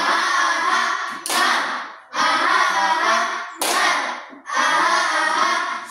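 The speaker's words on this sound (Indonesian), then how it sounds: "Namanya tepuk semangat." A group claps the rhythmic 'tepuk semangat' pattern in repeated bursts of brisk hand claps separated by short pauses, loud and close, with faint voices underneath.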